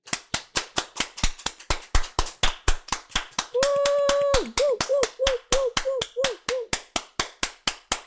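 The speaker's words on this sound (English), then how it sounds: "That slow clap" A single pair of hands claps in a steady, evenly spaced rhythm, while a voice briefly hoots and warbles partway through.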